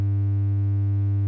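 A 100 Hz sine tone run through a saturation plugin, a steady, constant buzzing hum with added harmonics, heard alone and unbroken throughout.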